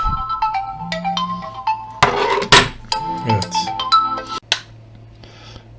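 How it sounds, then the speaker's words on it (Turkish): Phone ringtone sounding in repeated bursts as successive calls come in, with thumps and clatter in between and a brief voice speaking. "peş peşe telefon geldiği için bir şey diyemedim"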